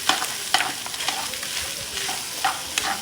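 Red onion frying in a pan with meat, a steady close sizzle broken by repeated scraping stir strokes at a loose rhythm, no voices.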